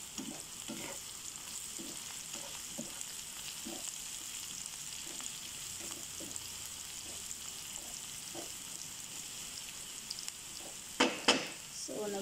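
Onions and garlic frying and browning in a pan, a steady soft sizzle throughout with occasional stirring scrapes and a couple of louder clatters near the end; no talking.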